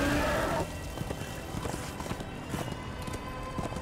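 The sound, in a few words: horse galloping in video game Darksiders II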